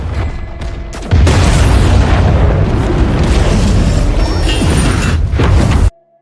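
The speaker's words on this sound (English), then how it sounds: "Atlas ordered to detonate the mines that had been installed." Detonated mines from a movie go off as one loud, sustained blast with heavy rumbling low end and debris roar, lasting about five seconds before cutting off abruptly.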